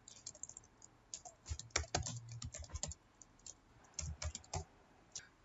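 Computer keyboard keys clatter in quick, uneven bursts while someone types Arabic text into Microsoft Word 2019, close and fairly quiet with short pauses between runs.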